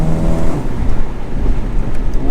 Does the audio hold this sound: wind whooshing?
yes